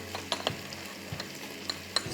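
Ginger garlic paste and green chillies fry in a pan with a quiet hiss, broken by several light clinks and scrapes of a spoon stirring, close up and without talk.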